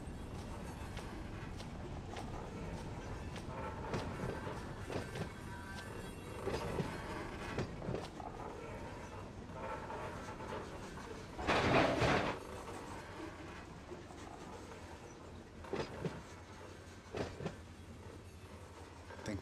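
A freight train rolls past a rail switch in the Run 8 Train Simulator game, a steady low rumble with faint rhythmic clicks and a brief louder clatter partway through.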